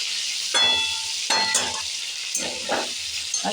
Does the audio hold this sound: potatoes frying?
yes